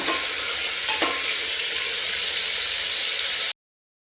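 Chicken frying in a pan with no turmeric, stirred by hand: a steady, close broadband sizzle with a couple of faint utensil scrapes near the start, then the sound cuts off abruptly before the end.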